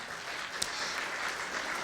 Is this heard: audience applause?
yes